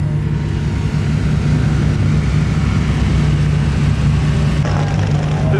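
Porsche GT2 RS supercar passing at a car meet, a loud steady engine drone with a deep low rumble, close by and continuous throughout, with no talking.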